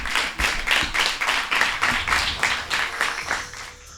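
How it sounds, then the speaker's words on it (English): Rhythmic group clapping from students at a primary school debate, steady unison claps for a speaker, about three per second, fairly close and loud with no talking. "Let's clap for him."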